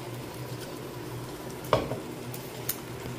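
Fried paneer cubes and chicken sausage stirred through a thick masala gravy in a pan, a low steady sizzle with a sharp spoon scrape near the middle and a lighter clink later, no voices.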